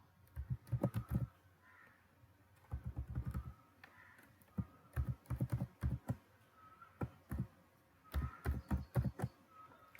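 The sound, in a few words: typing Python code on a computer keyboard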